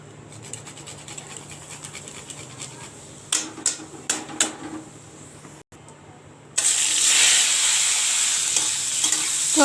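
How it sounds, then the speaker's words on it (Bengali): Cumin, bay leaf and grated ginger tempering in hot oil in a wok after frying aubergine: a few sharp crackles and pops, then a loud, steady broadband sizzle that fills the rest, with no voices. "তারপরে ওই কড়াইতেই ফোড়নে দিলাম জিরে"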